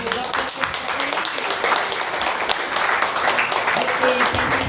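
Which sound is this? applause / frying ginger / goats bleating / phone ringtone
applause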